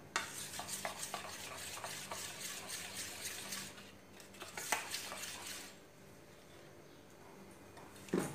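Dhokla batter being mixed after half a spoon of baking soda is added, soft rapid scraping and swishing of a spoon in a bowl, fairly quiet and close, easing off near the end.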